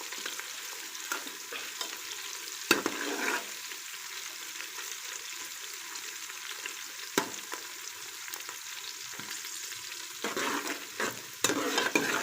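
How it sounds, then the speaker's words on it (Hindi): Onions frying in a pan for aloo pulao, a steady sizzle with occasional clatter from stirring. No talk. "प्याज फ्राई हो रहा है।"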